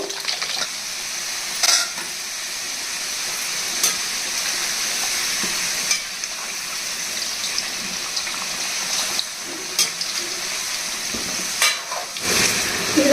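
Ingredients for an amla pickle made with ripe red chillies frying in a pan, a continuous close sizzle and hiss broken by occasional sharp clinks and scrapes of a stirring spoon, with no voices.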